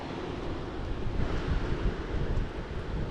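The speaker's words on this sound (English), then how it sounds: "This wind's been blowing" Steady wind blows outdoors around a garden watering setup on a sturdy pole, a continuous rushing broadband roar with gusty swells that buffet the microphone, no voices present.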